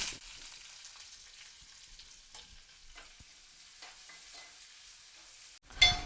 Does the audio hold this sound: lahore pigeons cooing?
no